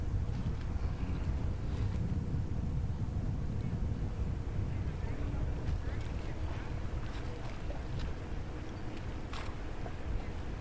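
An east wind blows at a marina pier where boats are docked, producing a constant low, loud rumble of gusting air buffeting the microphone that continues unbroken from start to finish.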